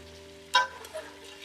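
Chickpeas hit hot ghee in a pan and set off a sudden sharp sizzle, which settles into a softer crackle over a steady low hum.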